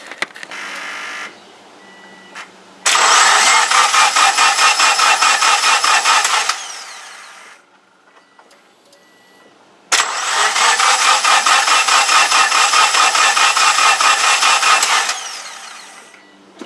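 A 2003 Subaru Forester 2.5L SOHC engine cranking off jumper cables: a loud, steady whirring crank of about four seconds, a pause, then a second crank of about six seconds, with no voices.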